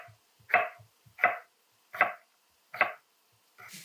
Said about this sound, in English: I'll cut up the other apple